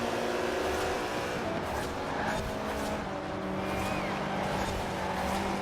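Subaru BRZ tuned to A class in Forza Horizon 4, its engine droning steadily at low revs with a constant tonal hum and road noise, while someone talks.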